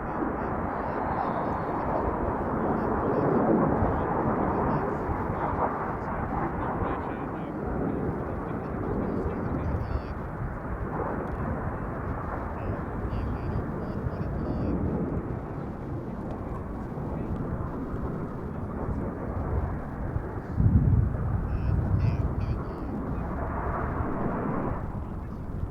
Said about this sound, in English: running in already is the 5-ship formation coming straight towards us for an upwards bomb burst called the Orchid